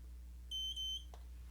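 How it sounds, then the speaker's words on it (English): A coMra therapy device gives two quick high electronic beeps in close succession, clear and alone over a low steady hum. "and you get 2 beeps"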